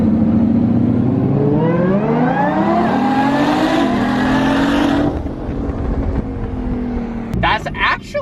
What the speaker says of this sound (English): an actual Veyron Super Sport race, excuse me, Mansory Veyron with a tune and exhaust against the 800 horsepower VF